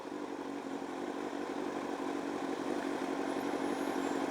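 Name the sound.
motorcycle with loud D&D exhaust pipes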